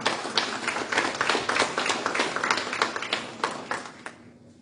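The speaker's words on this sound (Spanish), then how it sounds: "¿Hay algún aplauso para el Señor esta mañana?" A church congregation claps during a morning service, a moderate burst of distinct, uneven hand claps that stays fairly close and then tapers off to silence.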